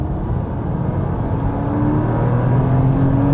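Base-model Porsche Boxster 986.2 with a 5-speed manual gearbox, engine droning steadily from inside while driving, pitch rising slightly as it pulls, loud and continuous with no talk.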